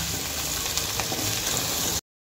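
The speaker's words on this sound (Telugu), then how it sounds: "ఇది ఒక జస్ట్ 5 నిమిషాల సేపు సిమ్లో వేగితే సరిపోతుంది." Capsicum frying gently in a pan over a low flame, a steady soft sizzle holding evenly throughout with no voices.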